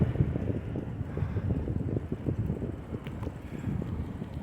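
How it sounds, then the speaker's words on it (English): Wind buffets the microphone during an outdoor bike ride, a steady low roaring rumble with gusty fluctuations that carries on throughout and drowns out everything else. "I'm pretty sure it's windy."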